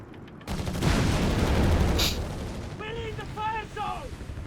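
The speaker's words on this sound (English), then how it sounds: "We've got countless American machine guns there ripping into them." Dense battle noise from Company of Heroes 3, with German and Italian forces against Americans: a roaring burst of massed machine gun and artillery fire up close, then a voice speaks over the fading rumble.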